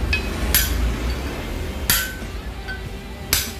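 Three sharp metallic hammer taps seating a bearing race on a Honda Click V3 scooter, evenly spaced about a second and a half apart, ring out over a quiet background.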